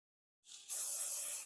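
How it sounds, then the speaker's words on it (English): A short hairspray burst hisses on after a soft lead-in, a bright steady spray lasting under a second, close up. "spray the top. And then go underneath and spray underneath as well"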